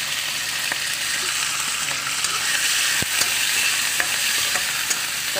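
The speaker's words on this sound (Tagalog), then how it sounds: "yung atay is i-blanch lang natin bahagya sa mantika" Liver blanching briefly in hot cooking oil sizzles steadily and loudly up close, with a dense continuous hiss broken by occasional sharper pops and crackles, no voices.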